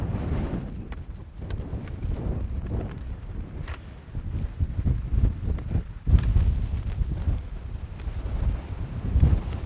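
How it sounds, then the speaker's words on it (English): Gusty winter wind in the hills buffets the microphone, roaring in uneven surges that swell and ease, loudest near the end. "it's getting a little bit windy"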